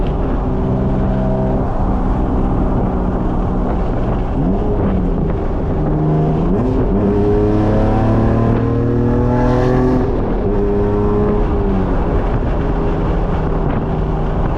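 1992 Acura NSX with modifications driving, a loud continuous engine roar heard from the cabin with rising and falling pitch sweeps as the car accelerates and shifts, mixed with wind rush and no talk.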